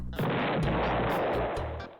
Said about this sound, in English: It's the Deltarune explosion noise.